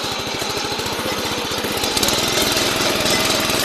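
A 7.5 HP Agri 7Hills power tiller engine chugs steadily in first gear, a loud, close, rapid mechanical putter with dense rattling that holds constant and grows slightly fuller toward the end.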